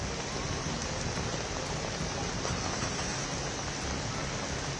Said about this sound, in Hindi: आंधी के साथ झमाझम बारिश में पूरी दिल्ली भीग गई।